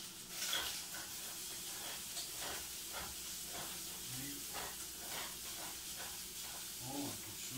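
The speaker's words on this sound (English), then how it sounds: "stir this around one more time, get the garlic moved around" Garlic sizzling and hissing steadily in a frying pan while being stirred, with a soft, close, continuous crackle broken by faint scraping strokes of the stirring.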